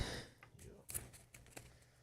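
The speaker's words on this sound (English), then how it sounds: "I gotta shuffle my deck, sorry." A card deck from a Slay the Spire board game being shuffled at the table, with brief bursts of papery clicks spread across a couple of seconds. Faint voices are present.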